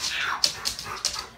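Cooper the dog whimpers in a few short, high, nasal bursts, close by and fairly loud, with no talking over it.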